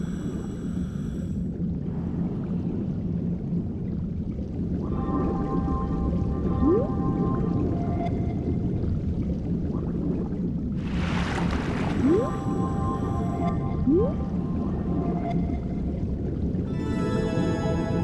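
Underwater ambience from the Endless Ocean Luminous video game with a bottlenose whale giving faint rising whistles and tonal calls over a steady watery rumble, a burst of bubbly hiss midway.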